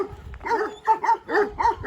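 Several dogs, including Kangals, bark in quick bursts, a cluster of yaps and woofs repeating about every half second, fairly close and loud.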